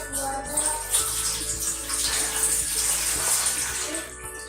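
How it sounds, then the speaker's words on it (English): Water poured slowly from a container into a rectangular pan, a steady close trickling splash that builds and fills without talk. "I need to pour this water into this pan."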